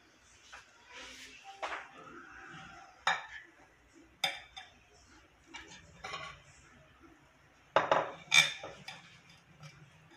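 A knife cuts a freshly baked, still-hot banana cake on a plate, making soft scattered taps and clinks against the plate. A faint voice is heard now and then.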